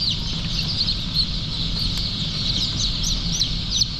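Continuous high-pitched chirping from many chicks in a poultry hatchery fills the space, a dense overlapping chorus over a low steady rumble, with no pauses.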